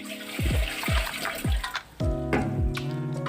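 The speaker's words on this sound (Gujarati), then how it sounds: "આ રીતે આપણે માટલાની અંદર પાણી નાખી દેવાનું છે" Water pours in repeated gurgling splashes into an old clay pot after Eno is added, several separate glugs landing close by, then a steadier stream running into the pot.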